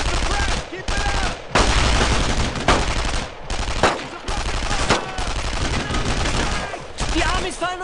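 Loud, dense gunfire from World War II rifles and machine guns rattles almost nonstop in the Brothers in Arms: Road to Hill 30 video game, with shouted voices mixed in under the barrage.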